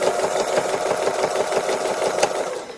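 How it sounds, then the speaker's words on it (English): A sewing machine runs steadily during free-motion embroidery, a fast, even mechanical whirr and needle chatter held close and continuous with no pauses or talk. "So we're just going to be stitching along here."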